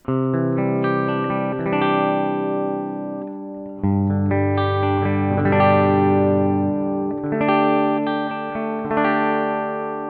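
A Gibson ES-335 electric guitar runs through a bypassed BOSS DS-1 pedal into a Koch Pedaltone preamp, recorded by line. Clean, ringing chords and arpeggiated notes sustain in three close, loud phrases.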